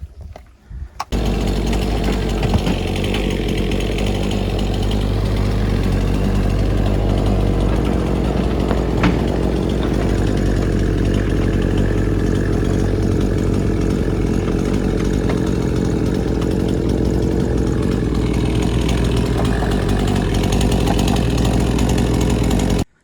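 A Husqvarna 55 chainsaw, a 50cc saw, starts up and runs loud and close at a steady high rev for over twenty seconds, with no talk over it.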